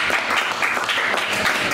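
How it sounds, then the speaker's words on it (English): Applause from a club audience after a local band's set at a small Chicago music venue, a brief wash of steady clapping at moderate level. "Let's give them one more round of applause"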